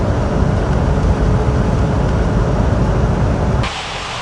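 A jet aircraft engine roars steadily during takeoff in the Unmatched Air Traffic Control video game. The loud, even rumble holds, then abruptly drops to a quieter level near the end.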